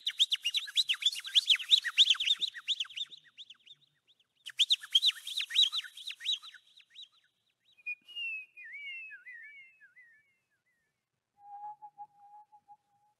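Bright birdlike chirps and warbling whistles, likely voices imitating birdsong at a live a cappella concert, come in two dense bursts, then a few sliding calls and a final soft trill, with silence between.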